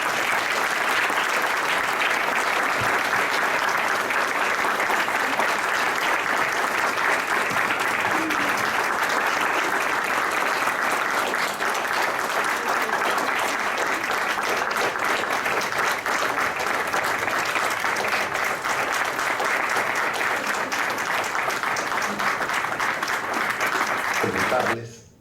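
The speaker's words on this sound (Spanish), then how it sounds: "Recibámoslo con un fuerte aplauso." A crowd at a book launch breaks into sustained applause, a thick, even roar of clapping that carries on for well over twenty seconds without letup before cutting off abruptly.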